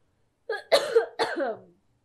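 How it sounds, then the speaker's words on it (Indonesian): Two or three sharp, close coughs in quick succession, loud and abrupt against silence. "Jadi batuk, terlalu bersemangat ngomongin pernafasan nih."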